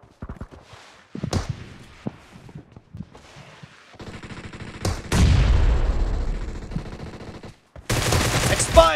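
Gunfire in PUBG, with scattered single shots and footsteps, then a long rapid burst of automatic fire and a final loud volley, close and punchy.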